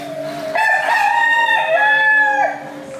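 A rooster crows once, loud and close, in a long, strained cock-a-doodle-doo call over a faint background hum.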